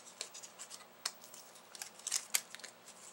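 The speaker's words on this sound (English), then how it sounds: "now I'm going to peel off the base layer" The base layer peels off a Cricut-cut card piece with faint, scattered crinkles and soft scratchy ticks, quiet and close, with no talking.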